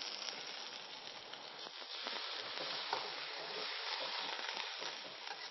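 Chicken for moo goo gai pan sizzles and fries steadily in a hot pan after a little stock is added, a close, continuous crackling hiss with faint stirring scrapes and no talk.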